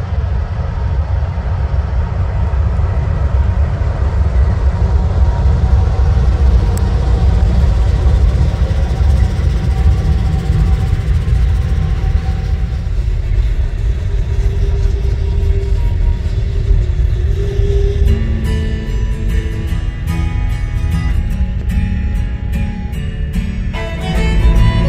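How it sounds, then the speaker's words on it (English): Train P87 on the Old Fort Loops near Old Fort, North Carolina rumbles past close by, a loud, steady, heavy roar with faint tonal squeals rising near the end. "We caught up with the train again just before he enters Old Fort"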